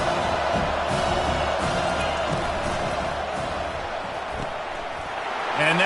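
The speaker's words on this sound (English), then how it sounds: "how nice is it to have the home crowd going absolutely bananas?" A home crowd at a Washington versus Tennessee college football game roars loudly and steadily, a dense, sustained wall of cheering that swells again near the end, with a broadcast commentator's voice running faintly beneath.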